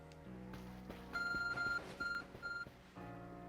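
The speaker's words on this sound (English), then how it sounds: "Your Arc phone is beeping?" An Arc phone in the video game Pokémon Legends: Arceus gives a short series of electronic beeps, evenly spaced, over a quiet background hum.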